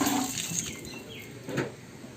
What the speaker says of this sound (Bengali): দেখে নাও পরিষ্কার করে ধুয়ে ফেলছে অপারেটার।